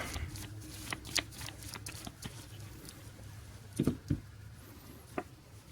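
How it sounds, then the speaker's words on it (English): Deck of cards being shuffled during a Legendary Marvel tabletop game, with a few crisp riffling bursts and card snaps near the table over a low steady room hum, no talking. "Draw a card, meaning I'm going to have to shuffle my deck."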